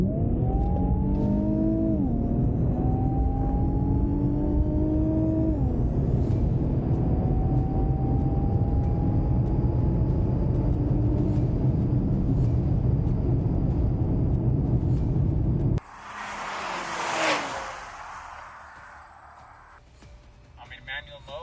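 A Mercedes C43 AMG or Infiniti Q50 RedSport in manual mode and Sport Plus accelerates hard, engine pitch climbing through several gear shifts in a loud sustained roar before cutting abruptly to a quieter wind-like rush.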